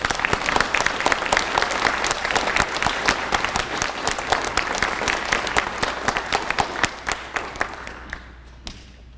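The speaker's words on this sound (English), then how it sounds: "Let's give these award winners a round of applause." Audience at a high school JROTC awards ceremony applauding award winners, dense steady clapping from a crowd that continues for several seconds before thinning out and fading at the end.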